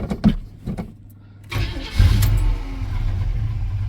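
A 1979 Chevrolet C15 truck engine cranks with a few short starter bursts, pauses, then catches and fires up loudly, settling into a close, steady rumbling idle.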